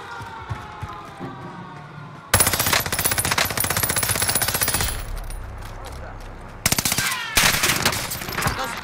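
Rapid automatic gunfire from a multiplayer shooting video game bursts in loudly after a quieter stretch, crackling in dense continuous volleys with brief pauses and further sharp bursts near the end.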